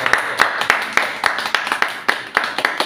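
Steady, fairly close applause from a small group at a book launch for a comic adapted from Ye Shitao's fiction, posing for a group photo; brisk rhythmic claps fill the whole stretch.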